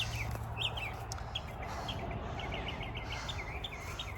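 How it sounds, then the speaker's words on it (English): Birds chirp and tweet in quick repeated calls on a permaculture farm, over a steady outdoor hiss, with faint insects in the background and no voices. "you can hear the birds probably"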